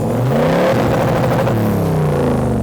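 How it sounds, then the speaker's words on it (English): A Toyota 70 Series engine revs up and back down through a deep, throaty 4-inch aftermarket exhaust, loud and close, with no other sounds. "The Just Autos exhaust not only looks amazing, but it sounds amazing too."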